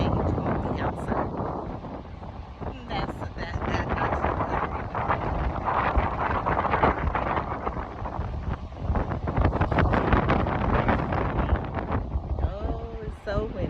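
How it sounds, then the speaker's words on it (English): Wind gusts hard against an outdoor microphone, a steady, loud, rumbling roar with buffeting bursts that runs throughout, and a faint voice appears near the end. "Oh, it's so windy."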